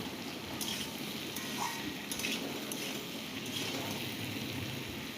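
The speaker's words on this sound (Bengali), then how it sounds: "এবার আলু পটল একসাথে আমি ভেজে নেব" Potatoes and pointed gourd (potol) fry together in a pan with a faint, steady sizzle and light crackle, quiet and continuous throughout.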